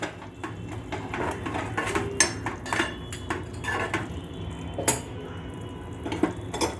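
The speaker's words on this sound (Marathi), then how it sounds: "पुन्हा एकदा आपण या मटकीला मिक्स करून घेऊया फोडणीबरोबर." A spoon stirs spiced moth beans (matki) with tempering in a metal pan, producing repeated clanks and scrapes against the vessel at an uneven rhythm, moderately close.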